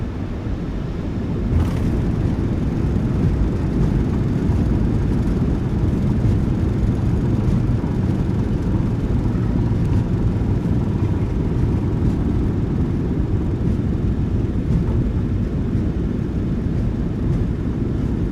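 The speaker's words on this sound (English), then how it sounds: "Reversers are out. Decelerating." Boeing 737-900ER thrust reversers roaring during landing rollout in a flight simulator, a steady loud low rumble of engine and airflow that holds evenly throughout with no talk.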